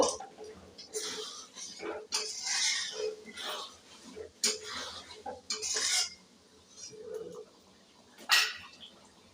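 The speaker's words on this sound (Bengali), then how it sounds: "ঘিটা দেওয়ার পরে একটু নাড়িয়ে নেব" Ghee being stirred in a cooking pan for paneer fried rice, with a spoon scraping and clinking against the metal in irregular bursts at close range, moderately loud, with no voices.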